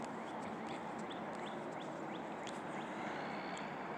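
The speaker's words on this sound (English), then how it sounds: "you can hear the sounds of the birds." Springtime birds chirp outdoors in the early morning, a series of short, faint, evenly spaced calls against a steady wash of broad background noise.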